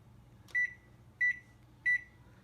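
Three short, evenly spaced electronic beeps come from a microwave oven keypad as its clock is set, crisp and close over a faint background hum.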